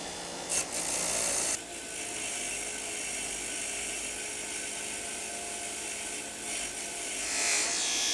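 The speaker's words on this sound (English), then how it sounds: "all I have to do is turn my grinder on and start cleaning it up" A bench grinder cleans up a steel hammer, giving a steady rasping, whirring grind that stays loud and continuous, with a brief harsh scrape near the start and small shifts as the metal is pressed against the wheel.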